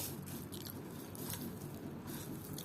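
Close, quiet chewing of rice mixed with puffed rice (muri), a steady stream of soft crunching and moist mouth sounds with no pauses.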